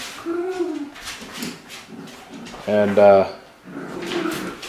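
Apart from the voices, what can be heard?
dogs whimpering and barking indoors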